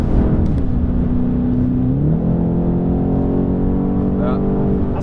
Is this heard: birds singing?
no